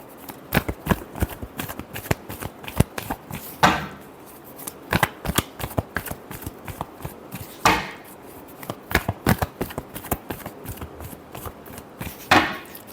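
Tarot cards shuffled by hand in a quick series of crisp riffling and slapping bursts with brief pauses between them, close and clear with no talking.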